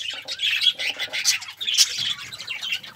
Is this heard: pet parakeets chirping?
yes